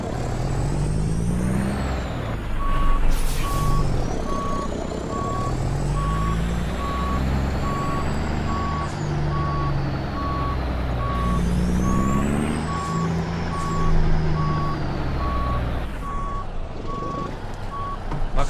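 Steady electronic reversing beeps from a large American truck backing up in Euro Truck Simulator 2, repeating evenly over a continuous low diesel engine rumble with occasional air-brake hiss, loud and close throughout with no talking.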